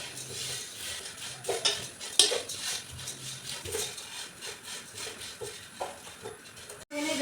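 Flattened rice (aval) stirred in a pan, with scraping and light clinks of a spoon against the metal, irregular and close, over a faint background hiss.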